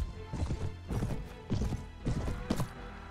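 Horse hooves pound along in a Game of Thrones mod for Mount & Blade Warband, a loud, steady galloping rhythm of heavy clops and thuds close up, with no talk.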